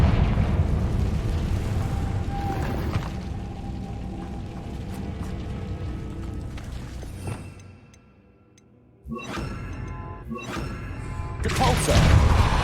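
A Confringo blasting spell explodes in the Hogwarts Legacy video game, heard as loud, broadband booming bursts with a brief near-silent gap before more blasts crackle out.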